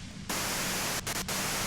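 Dense, steady radio white-noise static in the video game Disco Elysium, bursting in loud after a quieter start and hissing on continuously with two brief dropouts near the end.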